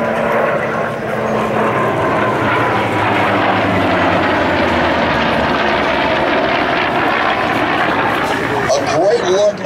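Loud, continuous roar of a Navy F/A-18 Super Hornet flying in formation with a vintage F4U Corsair at an air show, steady engine noise filling the whole stretch with a rising swell near the end.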